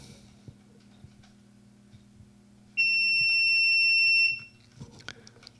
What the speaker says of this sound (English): When the clock reaches 0, the buzzer will sound if that feature was enabled.